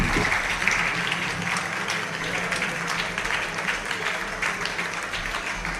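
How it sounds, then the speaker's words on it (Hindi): Sustained, vigorous clapping from a crowd at a Jain religious gathering during a booklet release. The applause is even and dense, heard from a moderate distance with a faint hum beneath it and no talk. "जोरदार तालियों से आप सभी लोग अनुमोदना जरूर करेंगे।"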